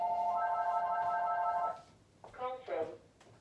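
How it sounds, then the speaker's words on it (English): A phone ringing indoors, a steady electronic ring tone for under two seconds, then stopping before a short burst of voice. "the phone always rings when you're recording."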